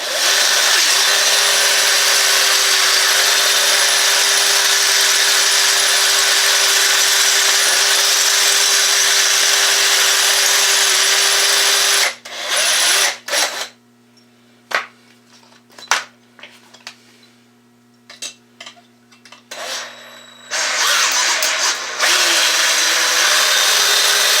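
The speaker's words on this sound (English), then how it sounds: "we're just going to go ahead and drill it." A power drill whines loudly and continuously for about twelve seconds while drilling metal, then stops; scattered clicks and brief bursts of drilling follow before it runs again.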